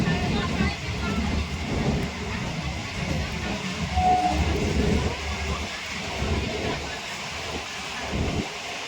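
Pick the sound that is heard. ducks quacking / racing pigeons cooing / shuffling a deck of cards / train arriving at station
train arriving at station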